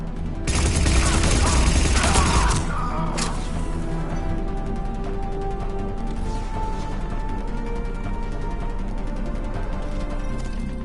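A dense burst of gunfire in the video game Mass Effect 3 blasts loudly for about two seconds, then gives way to a steady battle rumble with scattered mechanical clatter.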